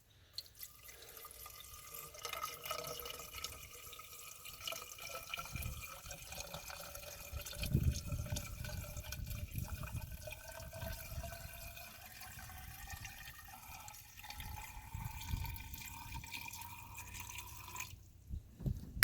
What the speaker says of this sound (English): So you can start pouring that in. And so yeah, we're just gonna let that go through the radiator.